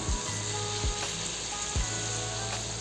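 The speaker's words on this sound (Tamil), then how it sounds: "கொஞ்சம் சூடு எண்ணெயை எடுத்து இந்த கரண்டி கரண்டியால் விட்டுக்குங்க அடுத்த சைட் திருப்பி விட்டுக்கலாம்" Masala poori frying in hot oil with a loud, dense, continuous sizzle, close by, with a few low thuds from a ladle as hot oil is spooned over.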